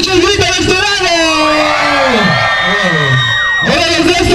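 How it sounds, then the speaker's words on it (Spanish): A crowd shouts and whoops together in a sustained, loud roar, voices rising and blending, with a brief dip before the yelling picks up again. "A ver que se escucha el grito de este lado."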